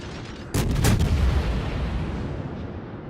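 Naval gunfire from a warship in the World of Warships video game: after a quiet moment comes a loud, heavy cannon blast that booms out and then fades into a long rumbling tail, with no voices.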